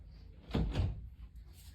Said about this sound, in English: I had to close my door real quick